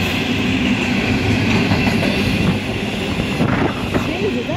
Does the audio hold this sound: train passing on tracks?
yes